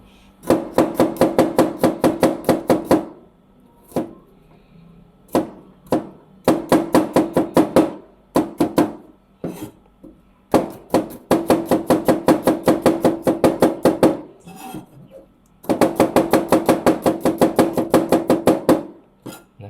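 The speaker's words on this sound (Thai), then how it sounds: "ผมเองปกติจะซอยอย่างนี้นะครับ กระเทียมนี่สำคัญนะครับ" Garlic sliced with a knife on a cutting board for chili fish sauce, rapid, regular close knife taps in long bursts separated by short pauses.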